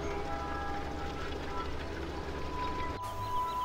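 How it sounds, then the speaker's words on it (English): A train rumbles past with a steady, continuous low roar and rolling rail noise throughout, heard nearby with a faint tonal whine, while a person talks over it. "Another train, folks."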